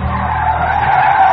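A car skidding to a stop, heard as a loud, sustained tire squeal that lasts about a second.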